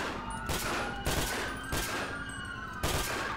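Repeated gunfire cracks out in uneven bursts in Grand Theft Auto 5 over a constant noisy background, several loud single shots spaced about a second apart.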